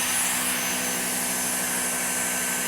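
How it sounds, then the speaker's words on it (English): A Dyson DC59 cordless vacuum cleaner runs with a loud, steady, high whine and constant airflow roar the whole time, close up and with no talking over it. "So if I switch this machine on"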